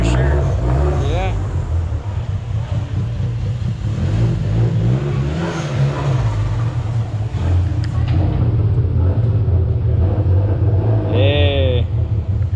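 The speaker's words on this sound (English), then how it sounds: "Jamie's got this rad little SRT4 coming in" A Dodge SRT4 rolls in at a dyno day, its engine rumbling steadily at moderate volume while people talk over it.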